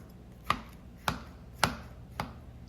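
A knife stabs holes into a raw pork shoulder in four evenly spaced, sharp thuds, close and moderately quiet, with no talking.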